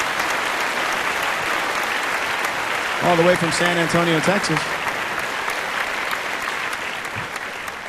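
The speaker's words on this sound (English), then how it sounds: "How about a big round of applause" Audience applause at a live band show, honoring the saxophone player, a steady wash of clapping throughout while someone speaks over it briefly in the middle, backed by a short sung or played phrase.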